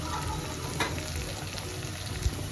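Onion frying in a pan for Marathi pumpkin sabji, a dense, steady sizzle close up with a brief louder crackle midway, no voices.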